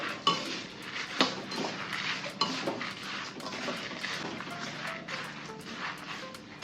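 Urad dal and dried red chillies dry roasting in a pan for idli chilli podi, with repeated light scraping and stirring clinks of a spatula against the metal, faint and close, without any talking.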